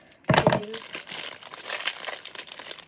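Close, loud crinkling of plastic packaging being handled and torn open, with a sharp burst at the start followed by continuous rustling.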